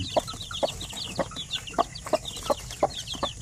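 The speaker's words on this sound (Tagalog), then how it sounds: "So far yan lang po yung ating mga manok ngayon." Basilan chickens in a pen give short, evenly spaced clucks about twice a second, close and distinct, over a steady wash of high chick peeping.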